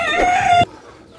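A native rooster crows loudly and close by in one sustained call that cuts off abruptly, leaving quiet ambience behind.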